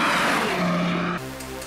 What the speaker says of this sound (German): Der Audi krallt sich in den Asphalt und spurtet los.